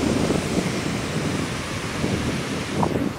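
Rising sea waves wash in at Jatiúca beach, where the encroaching water is eroding the shore, giving a steady, loud, close roar of surf mixed with wind buffeting the microphone.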